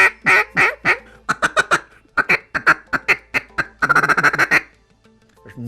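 A Buck Gardner SBT Spitfire duck call, wetted with cold water, blown up close in a rapid series of loud, raspy quacks, from drawn-out single notes to a fast feeding-chatter run, ending in a few soft clucks.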